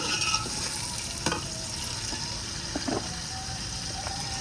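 Spices, masala and rice for aloo pulao fry in a pot, giving a steady close sizzle with occasional scrapes and stirring knocks throughout.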